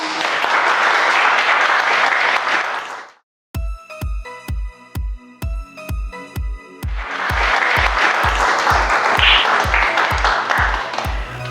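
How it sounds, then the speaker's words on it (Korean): Audience applause welcoming a former Korean minister to the stage for a lecture at Columbia University: a dense burst of clapping, then a pause filled by a run of evenly spaced sharp percussive hits, then the full clapping swells back and carries to the end. "뜨거운 박수로 환영해 주십시오"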